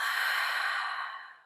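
Deep diaphragmatic exhale, one long airy breath out through the mouth, close and clear, fading gradually to its end.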